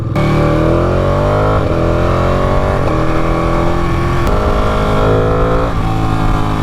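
A Ducati Panigale 959 sport motorcycle engine revs hard and close, its pitch climbing steadily with brief dips at each gear change, loud and continuous.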